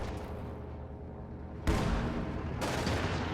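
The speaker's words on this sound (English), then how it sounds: "high explosive barrage into the point to try and force away those Volks Grenadiers" A high explosive artillery barrage falls on a capture point held by Volks Grenadiers in a World War II strategy game, heavy booms striking suddenly and layering into a loud rumbling roar with a second wave of blasts.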